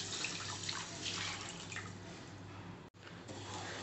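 Water poured from a cup into a pan of sugar makes a continuous close splashing stream that breaks off for a moment near the end before flowing again.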